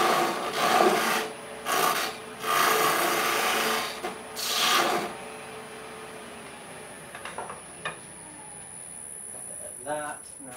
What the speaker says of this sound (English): I need to just actually make a groove now where the top of the tree is going to be.